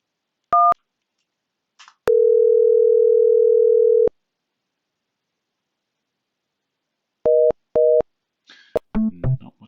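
Telephone tones on an international call dialled from the UK to a US number: a short two-tone beep, a long steady tone lasting about two seconds, then pairs of brief tone bursts, ending in faint muffled talk.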